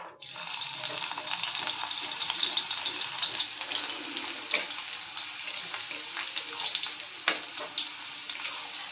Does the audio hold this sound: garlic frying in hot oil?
yes